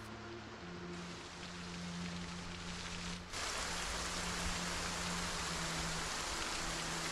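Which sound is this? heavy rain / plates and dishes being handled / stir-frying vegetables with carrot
heavy rain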